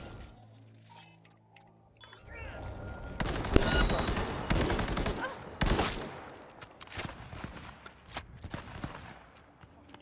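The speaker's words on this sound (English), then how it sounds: "Use our rifle for this mostly." Rifle fire in a shooter video game, with dense bursts of rapid shots and clattering effects building after a quieter start, loud and continuous through the middle before tapering into scattered pops.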